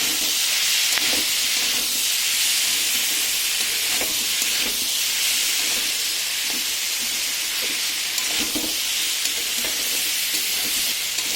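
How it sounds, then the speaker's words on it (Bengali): Nine kinds of chopped vegetables with a fish head fry and sizzle in a pan, a steady, dense hiss that carries on without pause, with faint scraping of stirring now and then. "এবার কিছুক্ষণ ধরে ভালো করে আমি কষতে দেবো।"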